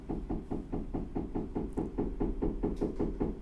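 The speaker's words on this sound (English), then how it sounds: "you hear that knocking? Everybody's doing work now while the weather's good." Neighbours' renovation work in New York produces rapid, regular knocking, around four blows per second, steady and muffled as if heard through a wall, with no talking.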